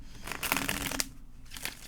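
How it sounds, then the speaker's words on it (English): Tarot cards being shuffled by hand, a short papery riffling and sliding burst that swells and fades, close and moderately loud with no voices. "One more shuffle."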